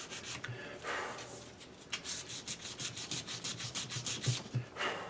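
Steady back-and-forth light sanding of primer with sandpaper, close up, in quick repeated strokes with no talking.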